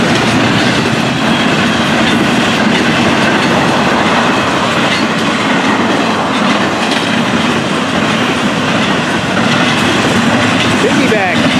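FEC 101 freight train with piggyback cars passing close by, a loud, continuous rumble with rolling wheel clatter and faint squeals that holds steady throughout.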